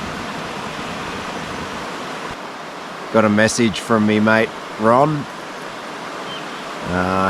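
River rapids rush in a steady, broadband roar beside a forest campsite, loud and unbroken throughout while someone talks over it in short bursts.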